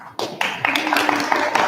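Applause from the audience at a school spelling bee: a short burst of quick, overlapping hand claps, fairly close and steady for under two seconds.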